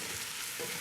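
Halved mushrooms, cleaned and stemmed, fry with onions and garlic for a beef and veal stew, giving a steady, close, soft sizzle with no voices.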